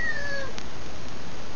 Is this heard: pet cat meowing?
yes